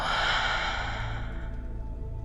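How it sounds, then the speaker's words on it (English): A slow, deep breath in and a long release out during a guided yoga nidra relaxation, close and soft over a steady low hum, with no talking. "one more deep breath in and let it go"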